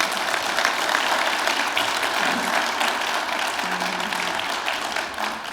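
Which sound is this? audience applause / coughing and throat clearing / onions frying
audience applause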